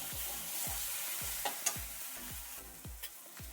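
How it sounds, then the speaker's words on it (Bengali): Onion with green chilli and garlic paste sizzles steadily in a pan while a spatula stirs it in a regular rhythm of soft scrapes, close and without talk. "এখন দেবো কাঁচা লঙ্কা আর রসুন বাটা। এগুলো দিয়েও একটু ভালো করে ভাজবো।"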